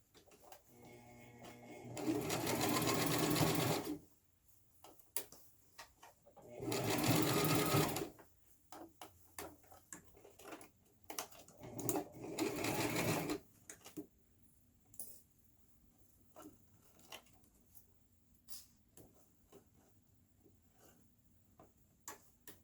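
A sewing machine stitches a frontal wig in three loud, steady bursts of a few seconds each, with quiet handling and faint clicks between them.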